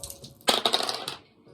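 Dice clatter and tumble across a table in a quick rattling burst lasting under a second, then settle into quiet.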